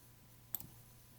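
A computer mouse clicking, a single faint, sharp click followed by a softer second tick, isolated against quiet room hum.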